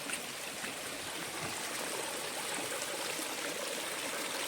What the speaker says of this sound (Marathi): पाणी बघा खूप पाणी